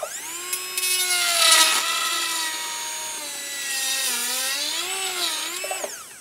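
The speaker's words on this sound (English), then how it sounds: "sinking the burr all the way into the denture" A dental burr grinding into an acrylic denture, a close high-pitched whine that holds steady and dips in pitch as the bit bites into the material, then winds down.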